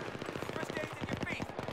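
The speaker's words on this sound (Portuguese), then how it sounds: "tem um cara me atirando." Rapid bursts of automatic gunfire crackle in the military shooter Battlefield 3, a dense, steady stream of shots at moderate level with game ambience behind.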